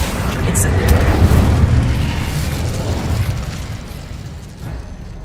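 A fire spell blast from Hogwarts Legacy erupts as a loud, rumbling boom, its roar sustained for several seconds before fading and tailing off with a smaller pop near the end.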